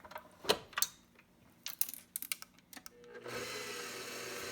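Ghirardelli chocolate cake batter being mixed: a series of irregular clinks and scrapes of a utensil against a bowl, followed by the steady whirring drone of an electric mixer starting up, fairly quiet and close.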